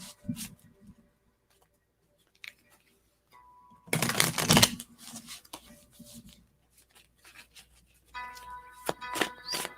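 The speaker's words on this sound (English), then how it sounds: "Oh, that was a terrible shuffle." Tarot cards being shuffled during a live reading, a dense crackling riffle burst in the middle with scattered lighter card clicks and handling noises before and after, fairly close and alone without talk.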